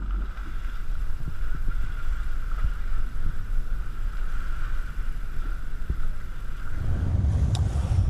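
Beneteau's Wingsail yacht under way with its aerofoil sail wrapped around an unstayed mast: steady rushing wind and water wash, a constant tonal hum, and a louder gust of buffeting near the end.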